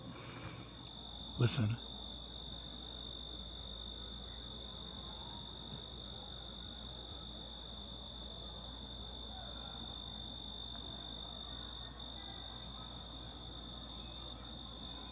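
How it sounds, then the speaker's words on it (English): Crickets chirp steadily at night outside a tent in the Sierra Nevada mountains, a faint continuous high trill under a quiet background, with a brief spoken word and a knock near the start. "I love the sound of crickets."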